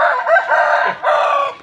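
A single rooster crows close and loud, one drawn-out call that breaks briefly before a final held note.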